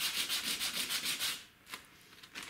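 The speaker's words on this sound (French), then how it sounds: "Là, tu fais un petit coup comme ça pour poncer le fond." Hand sanding of primer on a Mini's car body with a sanding block: a steady, rhythmic run of close rasping strokes for over a second, then a pause and a few brief lighter scrapes.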